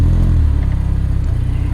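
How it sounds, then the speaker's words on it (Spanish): Pontiac Sunfire GT engine droning at a steady low pulse as the car drives along, loud and close from inside, with no talking. "Bien, manejando este Sunfire GT,"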